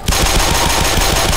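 Rapid automatic gunfire from the video game Black Mesa fills the whole moment: a loud, dense, unbroken burst of repeated shots with no voices over it.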